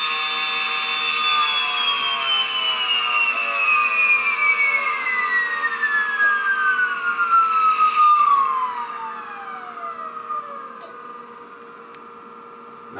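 A small electric motor runs at about 50,000 RPM on low voltage, giving a steady high-pitched electric whine whose pitch slowly falls, close and fairly loud over a constant hum, with no talking.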